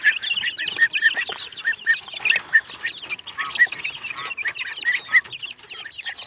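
Chicks and hens in a farmyard make rapid, repeated high peeps and soft clucks close by, a busy, irregular chatter with no talking.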